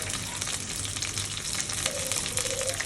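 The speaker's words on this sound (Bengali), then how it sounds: "এবার আমি মাংসগুলো দিয়ে দেব।" Meat sizzles and fries steadily in a hot pan, a dense, continuous crackle at close range with no talking.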